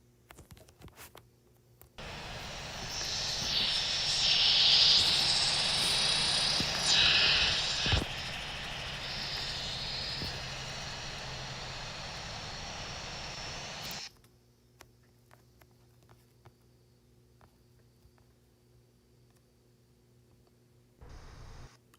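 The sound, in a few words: airliner reverse thrust on landing in the video game Infinite Flight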